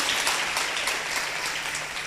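Applause from a church congregation at a leaders' seminar, a steady dense wash of clapping held at even loudness for about two seconds with no voices.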